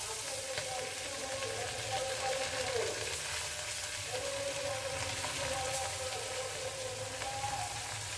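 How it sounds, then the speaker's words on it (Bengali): Chapila fish lightly frying in oil gives a steady, soft crackling sizzle that runs unbroken throughout, with faint background noise and no talking. "চাপিল্লা মাছ ভেজে নিচ্ছি, জালি দিয়ে রান্না করব, হালকা ভেজে নিচ্ছি।"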